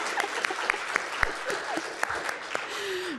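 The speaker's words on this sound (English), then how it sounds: "Let's give him a round of applause." An audience at a U.S.–Korea policy forum applauds a speaker with sustained, fairly loud clapping, a few sharp claps popping out of the crowd sound and a brief murmur near the end.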